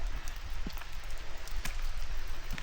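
Rain falling steadily during a grey, wet hike by a lake, with scattered drops tapping nearby surfaces over a continuous wash of rainfall, fairly close and moderately loud with no talking.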